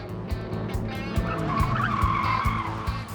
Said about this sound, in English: Once again, the car gets up to 40 miles per hour